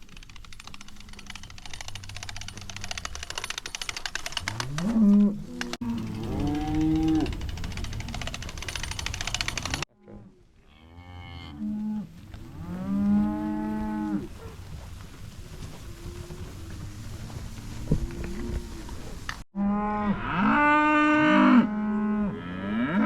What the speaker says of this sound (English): Now we're back to these cows